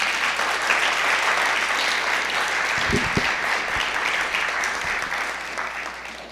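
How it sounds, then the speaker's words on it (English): Steady, dense applause from an audience at a 2013 Santa Barbara County Poetry Out Loud recitation event fills the whole clip, with a few louder claps near the middle before it fades slightly. "please give them a round of applause"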